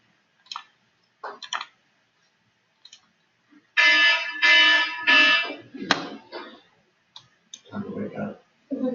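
A wake-up alarm goes off indoors with loud, repeated electronic beeping bursts, starting with short scattered beeps and then running in longer sustained pulses, with a voice starting to speak near the end.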